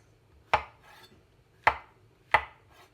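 A knife chops mushrooms on a cutting board in three sharp, evenly spaced strikes, close and clear against a quiet background.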